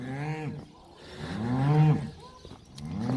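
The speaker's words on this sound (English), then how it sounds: "Cows are pissed off and bawling." Cattle bawl in long, drawn-out moos, one call after another, fairly close and loud.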